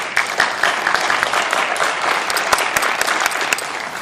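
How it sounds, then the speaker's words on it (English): An evening audience claps for teachers, a loud, dense burst of applause with crisp individual hand claps standing out and no speech over it. "let's give a round of applause for our teachers"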